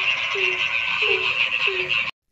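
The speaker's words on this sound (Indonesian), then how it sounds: "Kodok dan katak merupakan hewan vertebrata." Frogs and toads croak in a steady chorus, with several distinct low croaks repeating about every half second over a dense, continuous trilling background.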